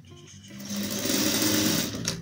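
A sewing machine runs steadily, stitching Oxford cloth for a patchwork rug, its motor whirring close and loud in one continuous run of about two seconds with no talking.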